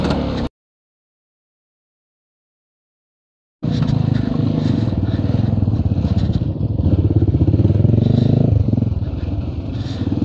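Motorcycles are ridden in Kapan, their engines a continuous close rumble and drone that cuts out in a silent gap of about three seconds near the start, then resumes steadily.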